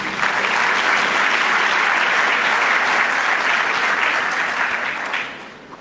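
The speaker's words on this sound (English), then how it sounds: "Another round of applause for the Minister, ladies and gentlemen." Loud, steady applause from a conference audience at an investment expo in Botswana, honouring a minister, holding strong before tapering off near the end.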